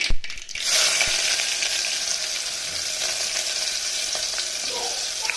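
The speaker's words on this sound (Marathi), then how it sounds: "कांदा टाकायचा" Chopped onion drops into hot oil with crackling mustard seeds in a pan, bursting into a loud, steady sizzle that continues evenly, close by with no talking.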